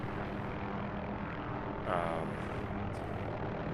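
Helicopter in the DCS flight simulator game, a steady loud broadband rotor and engine drone running throughout with a slight swell near the middle, no talking over it.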